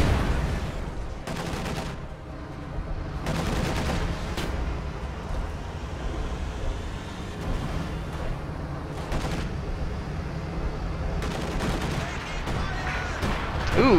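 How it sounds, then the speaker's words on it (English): Artillery shells land in a real-time strategy game as repeated distant booms and crackling bursts spread over a continuous rumbling battle din, with several sharp impacts standing out. "Ooh, that was a nasty artillery shell."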